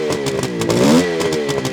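A 1972 Suzuki GT550J motorcycle engine runs close by with a steady, raspy two-stroke idle and a brief rev that rises and falls, with mechanical clatter under it and no talk.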